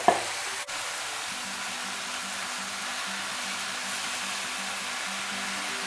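Kulfa saag (purslane) sautés gently in a pan with a steady, soft, even sizzling hiss, a quick knock at the start, and no voices.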